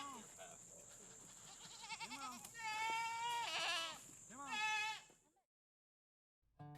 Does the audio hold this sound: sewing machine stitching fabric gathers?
no